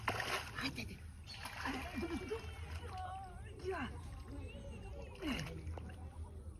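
Water splashes and sloshes as people dive in while fishing for a big fish, with several bursts of splashing under people talking.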